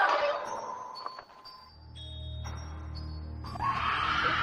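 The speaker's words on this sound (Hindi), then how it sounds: "किसी की चीखने की आवाज आ रही है।" A high, piercing scream rises at the start and again near the end, with clinking tones and a low rumble in between.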